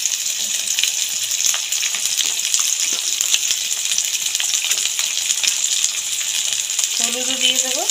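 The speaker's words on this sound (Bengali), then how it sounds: "তেল গরম হয়ে গেছে। সবজির থালিতে কাটা আছে যে সবজি, প্রথমে আমি আলুটা দিয়ে দিলাম তেলের মধ্যে।" Cut potatoes fry in hot oil for a Bengali mixed vegetable dish, making a continuous, even sizzle with scattered small clicks, close and steady, with a brief voice near the end.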